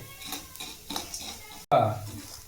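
Curry leaves roasting in a pan while a spoon stirs them, with metallic scrapes and clinks against the pan and a louder knock near the end. A voice talks intermittently over the sounds.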